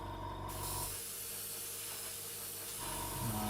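An airbrush sprays thick paint onto a scale model, giving a steady, close hiss of about two seconds. A constant low hum runs before and after the spray.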